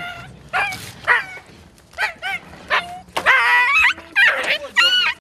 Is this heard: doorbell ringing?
no